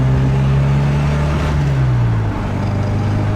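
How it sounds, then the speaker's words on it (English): A 1974 MG MGB Roadster with a header and flow-through exhaust gives a steady, close engine drone while driving, its pitch sinking partway through as the revs ease. "The car revs nicely."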